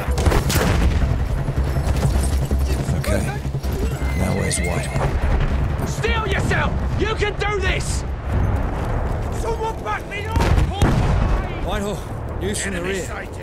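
Gunfire in the World War I shooter Battlefield 1 crackles through a busy battlefield, mixed with galloping horse hooves and whinnies, with a sharp louder burst near the end and someone talking over it.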